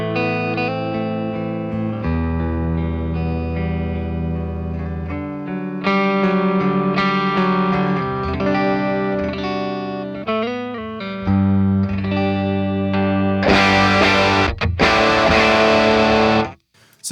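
Les Paul guitar on the neck humbucker with the volume near 9, played through a Dr. Z Z-80 amp in a crunchy, driven tone. Chords and riffs ring steadily and loudly, and the playing ends in a harder strummed burst.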